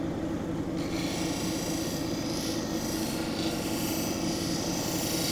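Brazilian agate being sanded on a 1200 grit wheel, giving a steady, close, continuous rasping rub with a whirring machine hum underneath and no pauses.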